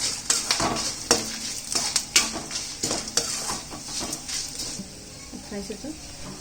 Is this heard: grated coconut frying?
yes